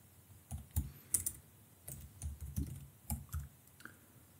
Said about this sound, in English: So I'll type merge.py slipbox.